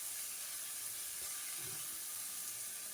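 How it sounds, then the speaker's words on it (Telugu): Boiled broad bean pieces tipped into a hot pan of softened tomato for a Telugu pulusu, giving a steady, close frying sizzle with a soft low thump partway through and no voices. "ఉడికించిన చిక్కుడుకాయ ముక్కలు వేసేద్దాము."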